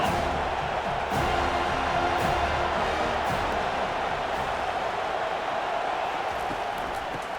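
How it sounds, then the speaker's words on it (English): A home crowd roars in the EA College Football 25 video game during a third-down defensive stand, a dense, steady wash of cheering and noise throughout. "Here comes this home crowd as the defense tries to get off the field on third down."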